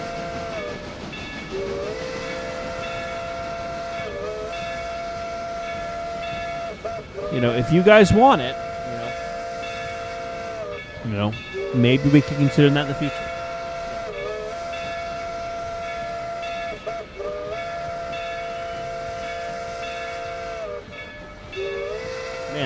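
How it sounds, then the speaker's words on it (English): The steam whistle of the EBT 16 locomotive in the Railroader video game sounds in long, sustained chord-like blasts, with a few louder, shorter toots and someone talking over it. "there's a lot of EBT 16 whistling"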